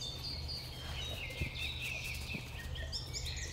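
Birds chirp and call in the high range through a forest beside a river loop, thin repeated tweets over a steady low background hum, continuous and moderately faint, with no voices.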